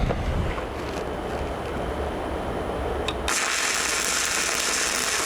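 Stick welding with 7018 rod on a horizontal overlay, the machine set too hot, makes a continuous harsh hiss and crackle up close. It grows brighter and louder partway through.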